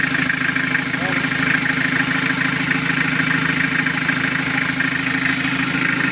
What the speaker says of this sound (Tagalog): Medyo maingay lang guys kasi hindi nakakabit yung yung pipe dito sa air cleaner.